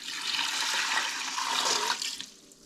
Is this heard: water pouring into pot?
yes